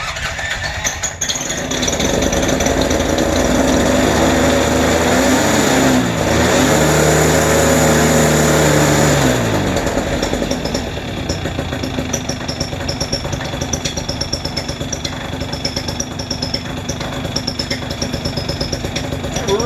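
A Polini 190 engine on an ATF trike ultralight runs steadily after starting, a loud, close buzzing drone that rises and dips in pitch with throttle changes and then settles into a rough, continuous idle.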